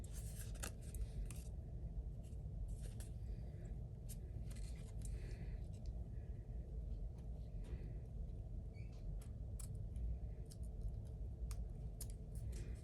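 Scissors snip through paper for card making in a steady run of short, crisp cuts, close and alone against a faint low background hum.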